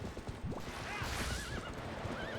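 A horse neighs in the Twilight Princess HD video game, with a rising whinny over steady galloping hoofbeats. It is loud and close, a continuous bed of game sound with no talk.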